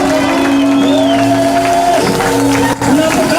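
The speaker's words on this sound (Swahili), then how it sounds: "Tumpigie Bwana Yesu makofi." A church congregation at a New Year kesha in Kisii town applauds and cheers, loud and continuous, with shouts and a sustained vocal tone riding over the clapping.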